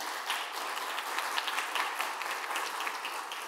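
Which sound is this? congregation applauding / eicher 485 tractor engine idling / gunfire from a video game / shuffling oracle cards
congregation applauding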